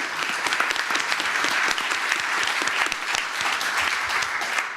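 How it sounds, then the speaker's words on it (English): An audience at a town hall panel forum on human-machine interfaces gives a round of applause, a continuous, moderately loud clatter of many hands with no break. "Can we have a round of applause?"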